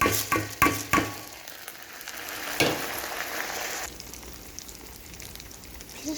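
Rice and vermicelli toasting in a little butter in a pot, with several sharp stirring scrapes and clatters at the start, then a close, steady crackling sizzle that softens toward the end; no voices.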